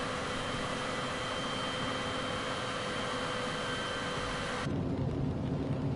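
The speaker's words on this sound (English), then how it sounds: "Look at this rain" Steady, dense rain roars without a break in a Microsoft Flight Simulator 2024 flight on approach to Burbank, with a low rumble of thunder under it and a sudden drop and change in the wash near the end.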